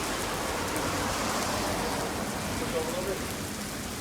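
Steady rain falls outdoors as a dense, even hiss across the whole stretch, moderately loud and constant, with no clear words spoken.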